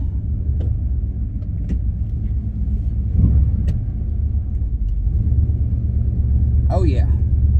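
Car engine fitted with a new carburetor and new exhaust, idling with a steady low rumble heard up close, with people talking over it.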